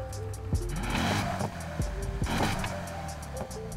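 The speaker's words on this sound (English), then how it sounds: "We're gonna mess with the exhaust note here first before we do anything else" A V8-swapped Lamborghini Huracan in the racing game NFS Heat revs in repeated sharp bursts, each throttle blip rising and falling with an exhaust crackle between.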